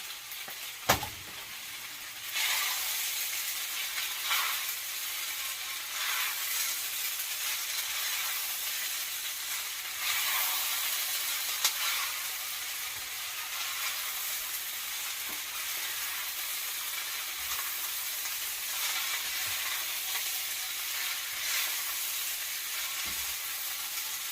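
Beef lo mein stir-fries in an overfilled wok with a loud, steady sizzle throughout, and a few sharp clanks and scrapes from tossing and stirring.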